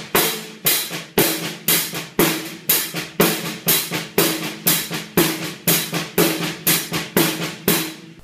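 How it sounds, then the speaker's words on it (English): Steady drum groove with hi-hat and accented snare rim shots on every third note, crisp evenly spaced hits in a repeating pattern, played alone and close. "Together with the hi-hat, it sounds like this."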